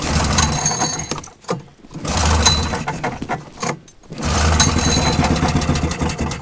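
A cold small engine with the choke on is pull-started, loud and close: rough bursts of turning over split by brief pauses between pulls, and the last burst runs longer.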